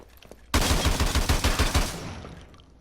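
Fast automatic gunfire in the video game Call of Duty Modern Warfare 2 Remastered, one loud sustained burst of rapid shots lasting about a second and a half, then fading.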